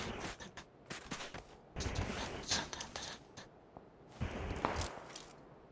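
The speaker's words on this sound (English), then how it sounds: "gunfire to the right" Faint bursts of gunfire crackle in PlayerUnknown's Battlegrounds, several short volleys that come and go at a distance, with quiet voices underneath.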